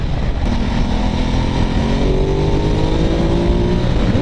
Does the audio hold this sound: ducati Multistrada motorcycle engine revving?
yes